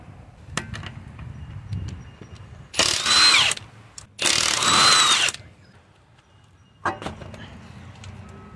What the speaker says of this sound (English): 19mm lug nuts. I'm gonna go ahead and take them out.